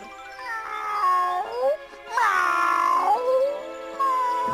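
A cartoon cat gives long, drawn-out meowing wails, two sustained whiny cries with a brief gap between them, loud and close, followed by a shorter call at the end.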